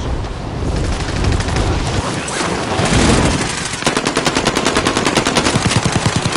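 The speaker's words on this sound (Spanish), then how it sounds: "Me están disparando" Rapid automatic gunfire in a Call of Duty game, loud and close, dense bursts early giving way to a steady rattling stream of evenly spaced shots toward the end.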